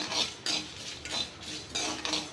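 Pepper, cardamom and cloves dry-roasting in a pan, heard as repeated scraping and stirring clatter in four or five short bursts, close and fairly quiet, with no talking.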